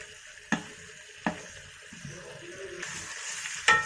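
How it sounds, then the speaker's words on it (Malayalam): Pork with green chilies and chili powder sizzles in a pan while a spoon scrapes and stirs it, with sharp utensil knocks against the pan over a steady frying hiss. "ഇതുപോലെ ഒന്ന് മിക്സ് ചെയ്തെടുക്കുക"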